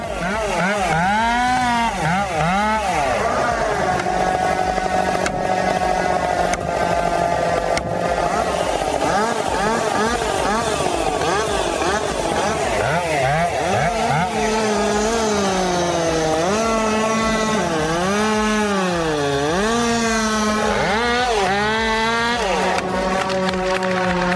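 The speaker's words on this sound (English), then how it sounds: "the rhythmic sound of the saw" A chainsaw engine whines continuously, its pitch rising and falling as it bites into wood, loud and close throughout.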